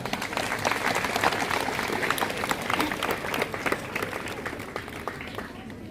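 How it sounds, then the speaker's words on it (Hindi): Congregation applause at a Christian priest's ordination ceremony, a sustained crowd of hands clapping at a fairly even level that tapers slightly toward the end. "तालियां।"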